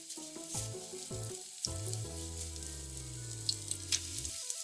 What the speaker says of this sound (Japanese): パン粉をつけたら揚げ焼きにします。